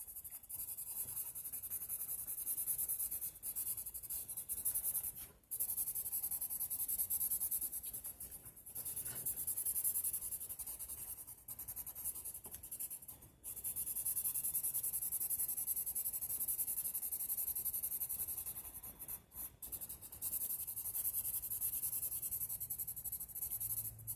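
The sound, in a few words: pencil drawing lines while coloring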